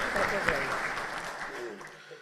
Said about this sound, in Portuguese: Peço uma salva de palmas a todos esses sindicatos e entidades aqui presentes.